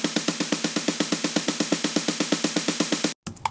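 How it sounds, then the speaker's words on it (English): A snare roll from an underground house production sample pack: rapid, evenly spaced snare hits repeating steadily for about three seconds, loud and dry, stopping abruptly, with nothing else playing. "you've got your snare rolls"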